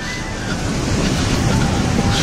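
Waves of the Celtic Sea surge against a rugged rocky coast near a lighthouse, a loud continuous wash of surf mixed with wind buffeting the microphone.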